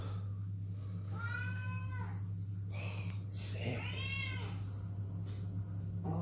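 An old cat meows repeatedly in an indoor kitchen, several drawn-out, rising-and-falling cries close by over a steady background hum.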